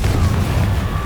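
A Confringo fire spell blasting in the Hogwarts Legacy video game: a single short, loud, low booming burst that fills the moment with a rumbling low-end rush.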